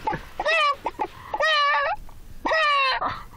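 A person's voice imitates a hen in heat with three rising, nasal, squawking calls spaced about a second apart, close and loud, each ending in a short clucking drop.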